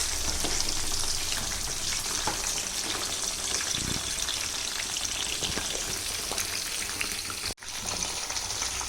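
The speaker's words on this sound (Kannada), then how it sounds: "ಮಶ್ರೂಮ್ ಫ್ರೈ ರೆಡಿ ಆಗ್ತಾ ಇದೆ ನಮ್ಮ ಮನೆಯಲ್ಲಿ ಇವತ್ತು ಮಧ್ಯಾಹ್ನದ ಊಟಕ್ಕೆ" Mushroom fry sizzles in a pan with a dense, crackling hiss that runs continuously at close range, broken by faint stirring taps and a brief cut near the end.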